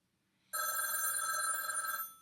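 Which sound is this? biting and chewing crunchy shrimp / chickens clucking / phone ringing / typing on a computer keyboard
phone ringing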